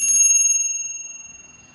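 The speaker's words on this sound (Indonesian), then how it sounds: "saya akan memulai dengan lonceng berbunyi." A single bright bell strike rings out clearly and alone, its sustained metallic tone decaying slowly over nearly two seconds.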